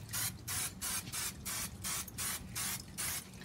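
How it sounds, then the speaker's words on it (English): Cooking spray hissing onto grill grates in repeated short bursts, about eight evenly spaced sprays, close and fairly loud with no talking. "So we'll add some cooking spray."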